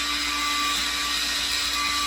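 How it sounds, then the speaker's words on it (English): Power drill boring into drywall in a cold garage, a steady continuous motor whine with a high buzzing tone, close and loud throughout with no talking. "let's drill these into the wall"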